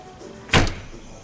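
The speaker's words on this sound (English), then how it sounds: "Why open the massive rear door when you can just open this?" A split rear window on a BMW 3 Series estate swings open with a single sharp, loud thunk and a brief rattle, heard close up with no talk over it.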